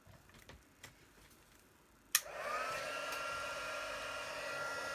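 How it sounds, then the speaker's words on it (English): Heat tool for card making, used over a silicone mat, switches on with a sharp click after quiet ticking and then blows a steady, loud whirring hiss close by that continues to the end, with no talking. "Okay, time for heat tool."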